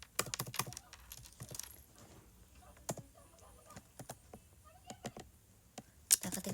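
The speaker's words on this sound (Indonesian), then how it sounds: "Kita ketik." Keyboard keys tapped in quick clusters while figures are entered into an accounting spreadsheet, faint and close, with soft background noise and a few scattered clicks between the bursts.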